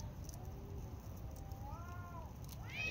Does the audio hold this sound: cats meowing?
yes